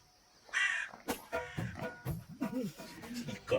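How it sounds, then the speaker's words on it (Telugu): A crow caws repeatedly in a movie comedy scene, harsh calls rising and falling in uneven bursts, close and fairly loud, with voices and other sounds mixed in. "మనం ఎంత ఇన్సల్ట్ చేసినా స్టిల్ నాకేదో కమ్యూనికేట్ చేయాలని ఎంత కృషి చేస్తుందో ఈ కాకి"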